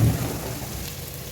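Pieces of chicken hit a hot pan of well-sautéed onions and fry for a chicken roast, giving a close, steady sizzle and crackle. It opens with a brief louder burst, then settles into an even hiss with no talking.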